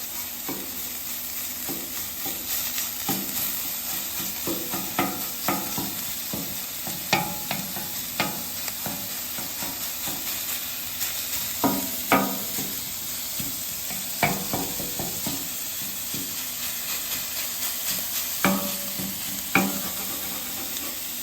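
Chorizo in casings sizzling steadily on a flat griddle, with a scraper repeatedly tapping and chopping it into chunks in irregular clicks over the continuous frying hiss.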